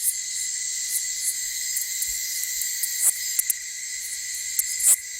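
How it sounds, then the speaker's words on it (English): Male katydids call at night in a Belize forest: a dense, steady, high-pitched insect drone, with faint scattered clicks and ticks in the background and no voices. "male katydids strum an evening serenade"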